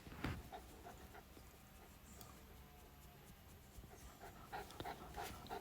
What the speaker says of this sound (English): If you can hear panting, I'm sat next to my dog